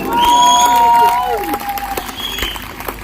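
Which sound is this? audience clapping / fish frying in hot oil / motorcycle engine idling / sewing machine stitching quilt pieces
audience clapping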